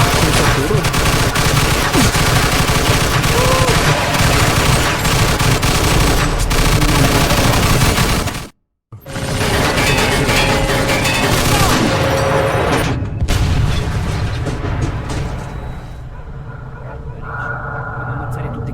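Heavy gunfire and artillery blasts fill a Mafia II battle, a dense loud fusillade of rapid shots with booms, broken by a sudden brief silence, then resuming before easing off, with shouted voices mixed in.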